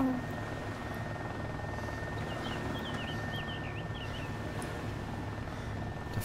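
Helicopter starting up and lifting off from an aircraft carrier in the video game ARMA 2, a steady low rotor and engine drone throughout with faint chirps in the mix.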